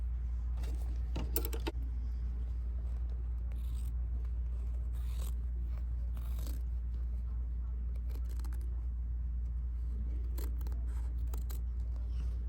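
Scissors trimming through layered fabric for an embroidered pineapple crossbody bag, making scattered crisp snips close by over a constant low machine hum, with occasional rustling handling sounds.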